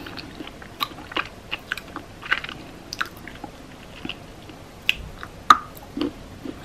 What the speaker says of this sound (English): अब चाहिँ म यो चकलेट खान जाँदै छु